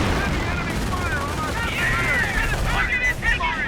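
Machine gun fire crackles steadily in a Company of Heroes battle, dense overlapping bursts with distant booms beneath, while a voice talks over the din.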